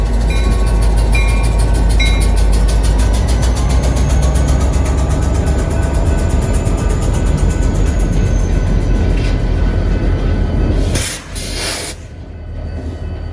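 A freight train works through the Twin Cities at midnight with a loud, continuous rumble of rolling cars and wheels and a high metallic ringing, and a brief louder burst of noise near the end.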